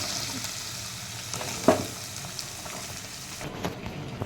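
Bottle gourd pieces frying in a pan for a tomato curry, giving a steady close sizzle with a brief clatter of stirring partway through.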